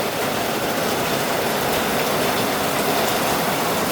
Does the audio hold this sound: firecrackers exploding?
no